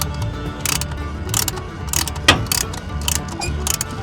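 Wheel chock mechanism on a camper being loosened, giving a series of ratcheting, clicking bursts at a steady uneven rhythm with one sharper clank midway, close by over a low background rumble.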